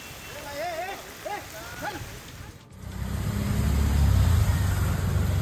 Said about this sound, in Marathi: मान्सूनपूर्व पावसानं मुंबई आणि पुण्याला चांगलंच झोडपलंय